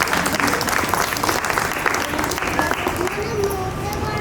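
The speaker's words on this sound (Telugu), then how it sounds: "దానికి మనందరి తరఫు నుంచి ఒకసారి మళ్ళీ క్లాప్స్ ఇవ్వండి ప్లీజ్" Steady audience applause at a Sankranti celebration in Manikonda, dense continuous clapping from a crowd mixed with voices, sustained throughout.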